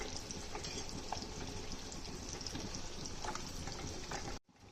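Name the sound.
eggs frying in a pan on a slow flame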